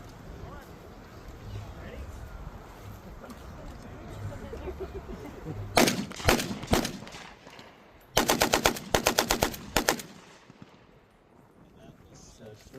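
A WW2-era StG 44 assault rifle fires at a reenactment event, two sharp bursts of rapid automatic shots ringing out loud and close, separated by a short pause, with crowd murmur before them.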